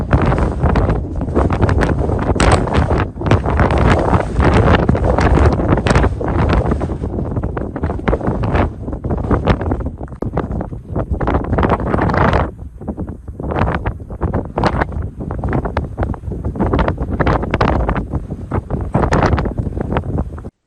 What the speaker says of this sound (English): The wind is quite light, so it's a nice day to be here.